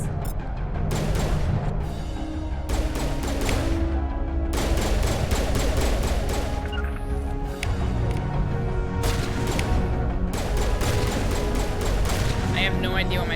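Pistol gunfire in the video game Mass Effect, fired in dense repeated bursts through a loud battle mix with continuous heavy combat noise; a voice talks over part of it.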